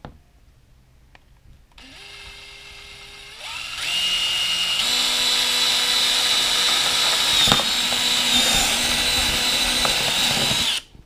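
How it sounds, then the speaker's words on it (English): A power drill drilling into an Igloo cooler whirs up and holds a loud, steady high-pitched grind through most of the clip, starting after a brief quiet moment and stopping abruptly. "I'm going to take my drill, and I'm just going to make a spot to drill out."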